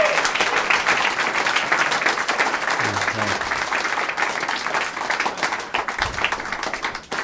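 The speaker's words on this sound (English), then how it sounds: "big round of applause for Dave Anthony" Comedy-show crowd applauding comedian Dave Anthony as he is introduced: dense, steady clapping fills the whole stretch at full strength, with scattered cheers and a brief low voice mixed in.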